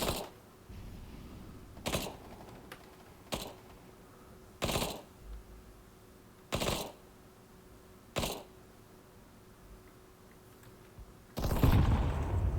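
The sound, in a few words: gunfire in the video game Counter-Strike: Global Offensive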